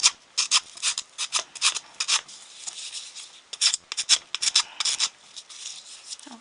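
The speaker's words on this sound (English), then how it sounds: "It doesn't take too long to sand it." Hand sanding of a travel wagon, a rapid run of rough, scratchy strokes that stays close and steady with short pauses between passes, and nobody talking.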